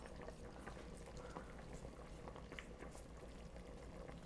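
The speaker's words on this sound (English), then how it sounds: "I'm going to pour my vaghaar straight into the dal" Hot tempering of spices and red chilies is poured into Gujarati dal, giving a faint, soft sizzle and liquid bubbling throughout with no voices.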